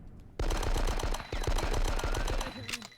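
Rapid automatic gunfire bursts loudly in Die Hard: Nakatomi Plaza, sharp repeated shots cracking in quick rhythm for nearly three seconds before tapering off.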